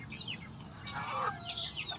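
Small backyard flock of hens, including gray and brown birds, clucking close by in a few short bursts, with brief higher calls toward the end over steady low ambient noise.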